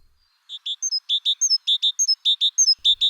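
A bird sings bright, high notes grouped in threes, each short phrase repeated in an even rhythm, loud and near with no other sound.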